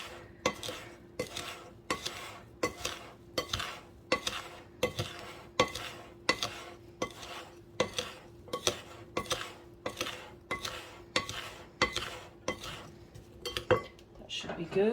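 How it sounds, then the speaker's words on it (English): Blueberry and rhubarb galette filling with nutmeg and cinnamon is mixed in a bowl, with about twenty regular clinking strokes of a utensil against the bowl in a steady rhythm, close and fairly quiet. "And then we'll just mix this up. Make sure the fruit's all coated and mixed together."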